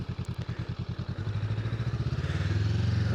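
A 2025 Honda Rebel 500 motorcycle engine thuds in a steady, close pulse as the rider shifts down through the gears toward first, its mid-low drone rising and smoothing out near the end with no talking.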